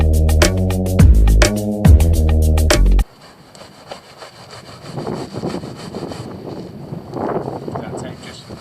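A sharp knife blade slices along artificial grass, shaving off the edge, with close, rough scraping and rasping strokes after a few seconds of loud, tonal sound at the start.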